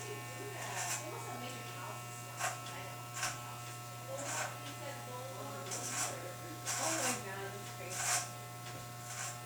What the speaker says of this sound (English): So now I'm shaving up the side.